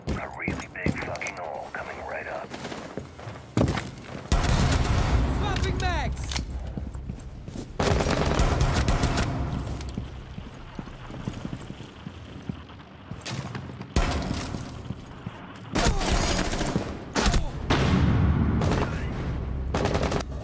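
Gunfire in the video game Rainbow Six Siege: loud, repeated bursts of shots and booming impacts that come and go across the scene, with voices talking over the action.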